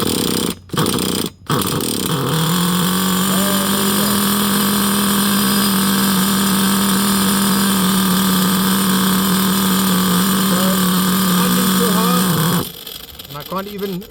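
A rich-running HPI Savage X 4.6 RC nitro engine drones steadily at one high, buzzing pitch, loud and near, after a couple of short stutters at the start, then cuts out abruptly near the end.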